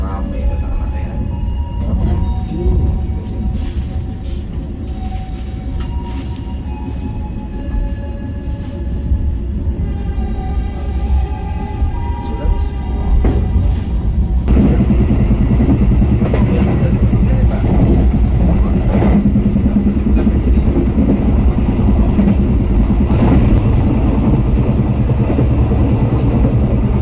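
Passenger train pulling out of Semarang Poncol station, seen from inside an economy-class coach: a steady low rumble of wheels and carriage noise that grows louder and denser partway through as the train picks up speed.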